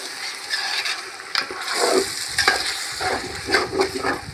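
Tomatoes and ginger garlic paste sizzling and being stirred in a pot for country chicken biryani cooked over an outdoor stove, with close scraping and stirring strokes over a bright hiss.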